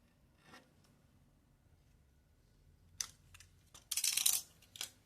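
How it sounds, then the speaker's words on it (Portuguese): A utility knife slices through folded leather in short, close, scratchy bursts, a faint tap first and then a cluster of quick cutting strokes near the end, with quiet surroundings. "E vou passar o estilete."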